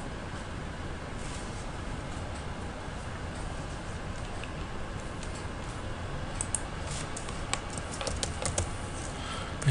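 Someone types on a computer keyboard in quick, light clicks that grow denser and louder toward the end, faint and close against a steady background hiss.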